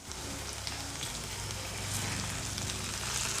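Okra (bhindi) frying in a pan on low heat, giving a steady, soft sizzle that builds slightly toward the end, with no talking.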